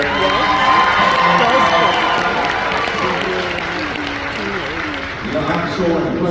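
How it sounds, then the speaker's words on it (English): A packed panel audience bursts into loud applause mixed with cheering and whoops, continuous and energetic, with voices shouting over the clapping before it briefly dips and swells again. "round of applause again just for them for making it out here"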